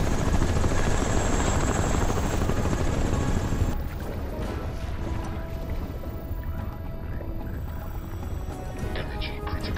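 A low-flying helicopter in Crysis Remastered roars loudly with steady rotor thrum throughout, dipping slightly partway as other game sounds continue beneath.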